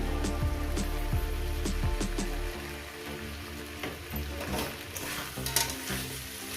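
Banana flower frying in Amul ghee in a pan, stirred with steady scraping strokes over a soft sizzle; the scrapes come quickly at first, then the sizzle settles and carries on quieter and alone.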